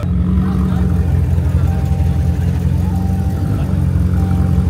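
A Dodge SRT Hellcat with a 6.2-litre 717 hp V8 Hemi engine drives on the Nürburgring Nordschleife track, giving a loud, steady, close engine drone with no let-up throughout.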